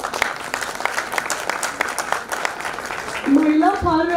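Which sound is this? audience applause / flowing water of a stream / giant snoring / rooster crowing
audience applause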